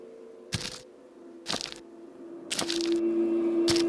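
Footsteps on wet ground in the video game Dagon, four separate squelching crunches about a second apart, with a steady low hum underneath and a tone rising near the end.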